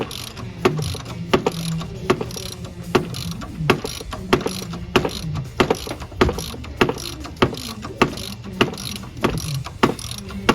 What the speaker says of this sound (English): See how that's pulling out? And just like that, the pulley is off.